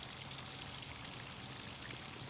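Fast-moving water rushes down a steep hillside, washing soil away as it erodes the slope; a steady, continuous broadband rush with no pauses and no voices.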